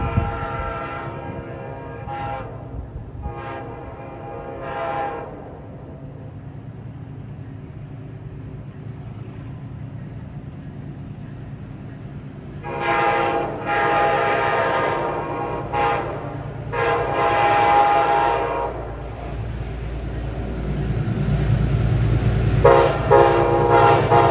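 A Metro North train, number 855 from Grand Central to Poughkeepsie, passes Riverdale, a low rumble swelling as its horn sounds several times in long and short blasts, with a final blast as it nears.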